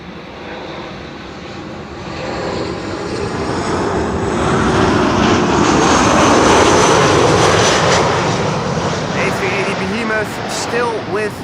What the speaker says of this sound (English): KLM flight 1502. And that is arriving from Madrid, and that's the 737-900.